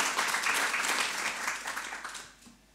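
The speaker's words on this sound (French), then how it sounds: "je vous demande de l'applaudir" Steady applause from a conference crowd at a talk on exile and asylum, fairly close and continuous, thinning and fading out at the end.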